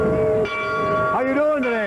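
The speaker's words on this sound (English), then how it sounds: "we got the ace manager of Channel 16 ringing a bell today" A bell rings at a St. Patrick's Day parade with clear sustained tones that shift in pitch across a couple of strikes, loud and close, while people talk nearby.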